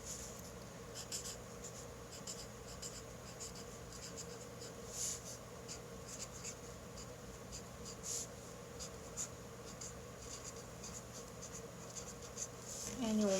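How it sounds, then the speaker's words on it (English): Pink pen scratches across the page of an Erin Condren budget planner, soft faint strokes close to the microphone over a quiet room hum, with brief spoken comments nearby. "And I'm going to write up here,"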